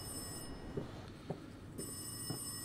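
A telephone rings in a horror video game, Rise of Insanity, with a few faint rings over a steady background hum and no talking.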